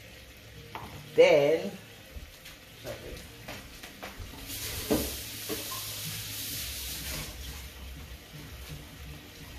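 Tofu pasta sauce simmers in a pan with a low, steady sizzle, broken by scattered stirring clatters and a louder bubbling stretch midway, while a voice speaks briefly.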